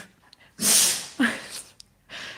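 A dog gives a sharp, loud sneeze, followed by a short snort and a few faint sniffs nearby, with a breathy puff trailing at the end.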